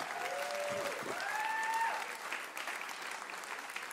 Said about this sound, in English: Give her a big God bless you clap